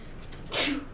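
A single short sneeze bursts out midway, a quick breathy burst close by, with quiet room tone before and after.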